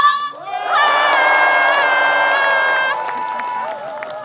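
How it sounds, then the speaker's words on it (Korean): A crowd at the Cheongsong apple festival roars with cheers and clapping for a performer, a loud, sustained wall of shouting voices with long held yells that eases slightly toward the end. "더 크게 박수와 함성!"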